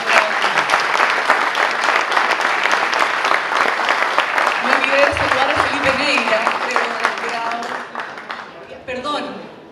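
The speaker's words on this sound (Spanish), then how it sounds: "Un aplauso a todos." Sustained audience applause at a wine awards ceremony, dense clapping filling the room at full strength with voices heard through it, a low murmur of talk rising midway before the clapping thins toward the end.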